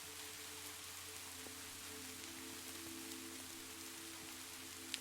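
Soft rain patters steadily on a window pane, a faint, even wash of drops with a low steady hum beneath and no voices.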